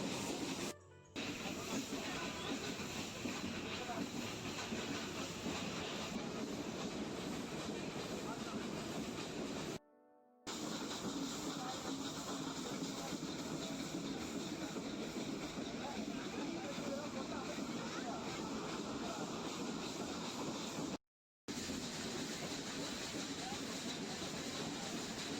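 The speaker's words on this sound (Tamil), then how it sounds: "இது மாதிரி ஏகப்பட்ட பாலங்களில் கடந்து தான் ரயில் போய்கிட்டு இருக்கு." The Mettupalayam–Ooty steam train runs through the Nilgiri hills over bridges, a steady rumbling hiss of wheels and carriages heard from on board, continuous and moderately loud with a few short cuts.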